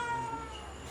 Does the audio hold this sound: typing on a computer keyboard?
no